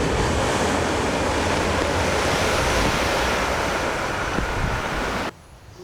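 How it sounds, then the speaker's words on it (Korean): Ocean waves forcing a water spout through a blowhole in limestone rock on a tropical island coast make a loud, continuous roaring rush of surf and spray that cuts off abruptly near the end. "석회암 해안의 커다란 바위 구멍은 파도의 압력을 받아 장대한 물줄기를 뿜어낸다."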